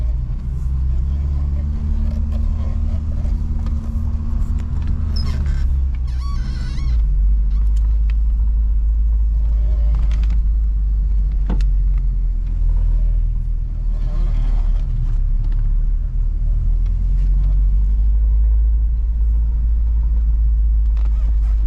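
A 1989 Toyota Pickup SR5 4x4 drives off-road, its engine giving a steady, loud low rumble throughout, with bumps and rattles from the suspension and a brief rise in revs partway through.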